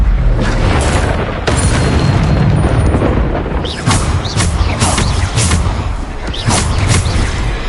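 Repeated Bombarda explosion spells in Hogwarts Legacy on PS5: a continuous run of booming blasts and thuds with sharp cracks every second or so, loud and dense throughout under busy game noise.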